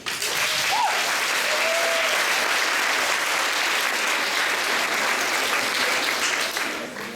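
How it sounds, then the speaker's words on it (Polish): Audience applause at a theatre festival, dense sustained clapping from a full hall that carries steadily for several seconds before easing slightly at the end. "Brawa dla nich."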